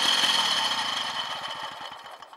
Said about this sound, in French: on vient actionner encore le décompresseur jusqu'à que le moteur s'éteigne.